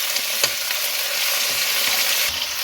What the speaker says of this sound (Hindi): इसमें हाफ kg बीफ का गोश्त वो डाल दें। अब गोश्त को इसमें भून लें।